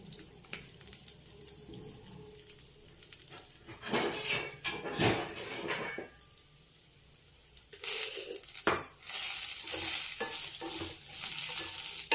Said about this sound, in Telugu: సగం కొబ్బరి చిప్ప వేసి దీంట్లో కొంచెం ఆ పచ్చి వాసన పోయిందాక కొంచెం డ్రై అవ్వనిద్దాం.